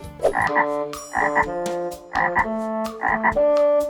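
Frogs held in a bag in Nakhon Phanom, Thailand, croak loudly and close by, repeating four evenly spaced rhythmic bursts of paired croaks.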